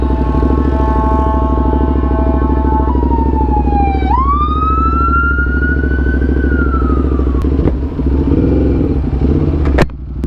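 Loud wailing ambulance siren sweeping up and down over a rumbling engine nearby, the pitch rising and falling in long glides.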